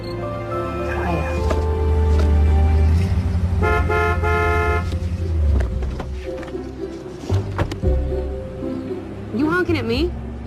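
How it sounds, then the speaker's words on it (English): A car horn toots a few short times amid steady vehicle rumble and background music, fairly close, with bursts of other sounds around it. "You honking at me?"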